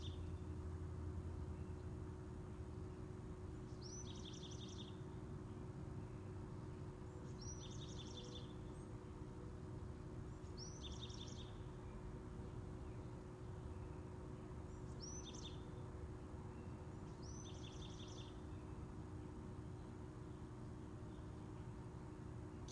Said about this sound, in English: I'm listening to that little bird preaching a sermon of the Buddha.